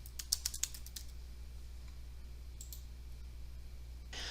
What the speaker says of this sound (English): Type in the name of the user that you want to bring into the course into the search bar.